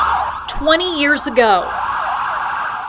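An emergency vehicle siren from New York City on 9/11 wails close and loud in a short rising and falling sweep, with a voice speaking briefly alongside it.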